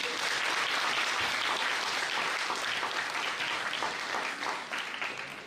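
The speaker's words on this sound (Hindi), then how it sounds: "ताली बजाना चाहिए।" An audience at a university science week festival bursts into sustained, dense applause that holds steady throughout before easing slightly at the end.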